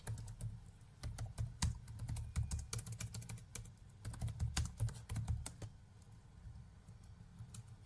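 Someone types a name on a computer keyboard, a close run of rapid, quiet key clicks in bursts with a short pause near the end, alone without talk.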